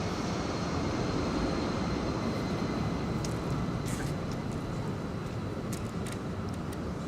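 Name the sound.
airplane taking off from a nearby airport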